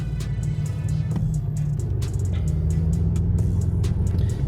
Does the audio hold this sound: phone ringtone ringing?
no